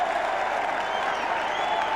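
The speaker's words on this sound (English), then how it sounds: "Listen to the crowd." At a 2002 AFL match between Fremantle and Essendon, a large stadium crowd roars and claps after a free kick, a broad, sustained din heard from a distance with a faint voice beneath it.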